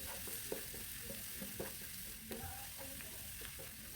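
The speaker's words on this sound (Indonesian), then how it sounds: "ditumis bawang putih dan juga bawang bombaynya" Garlic and onion sauté in a pan while being stirred, giving a steady close sizzle with repeated scraping and clinking of the utensil against the pan.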